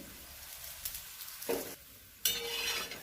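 Potato besan flatbread frying in a little oil on a pan, a soft, faint sizzle with a few scraping touches and a brighter burst of sizzle near the end; no voices.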